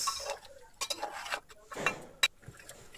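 Spoon clinking and scraping in a pot of mutton curry cooked over a wood fire, a series of irregular close metallic taps and scrapes with quiet gaps between.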